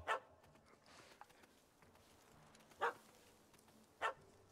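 A puppy in the video game Witcher 3: Wild Hunt gives three short sharp barks, spaced apart, over a low murmuring game background.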